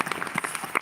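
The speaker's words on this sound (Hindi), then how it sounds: "ज़ोरदार तालियों के साथ सतीश साहब एक बार" Audience clapping at a Shaam e Rekhta poetry gathering at Paigah Palace, Hyderabad, brief and busy with scattered individual claps and a faint voice underneath.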